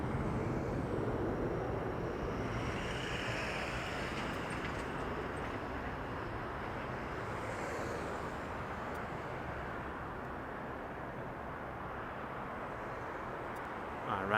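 A United airliner at Las Vegas Harry Reid International Airport, its jet engines giving a faint, distant, steady roar that swells and slowly eases, with people talking over it.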